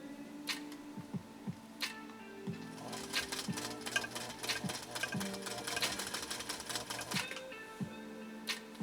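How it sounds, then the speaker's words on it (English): A 1958 Singer 222K sewing machine stitches with embroidery thread and a leather needle. A fast mechanical whirr and rapid needle clatter build up in the middle, broken by short pauses and start-up bursts, all close and alone. "It's really mad at me because I'm holding it back, but I want to make sure that I have some control here."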